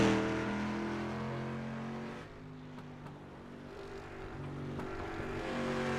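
A street stock car engine drones on the Oswego Speedway oval in the iRacing sim, a steady mid-loud hum that dips briefly in the middle and swells back up as the car comes around.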